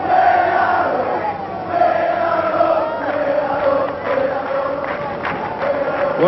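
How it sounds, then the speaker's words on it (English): Football crowd at a 1981/82 Bradford City versus Bournemouth match sings a chant in a stadium, a broad, distant rolling mass of voices with rising and falling swells and scattered shouts. "some of the crowd singing "We Are Up,""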